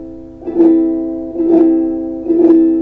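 Three separate ukulele chord strums spaced about a second apart, each a quick fanned roll played with the fingers one at a time across the strings, ringing out close and clear, no voices.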